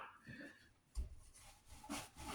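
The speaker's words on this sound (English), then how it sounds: "brush out any dirt that loosened up with my horsehair brush" Horsehair brush scrubbing dirt off a leather boot, soft scratchy strokes in a few uneven brief passes, close but quiet.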